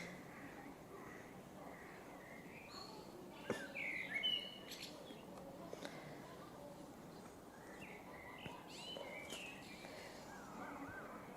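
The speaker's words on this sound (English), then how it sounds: "because a bird made a sound" Outdoors, a bird gives several short, faint chirps and tweets, scattered through the stretch over a quiet background.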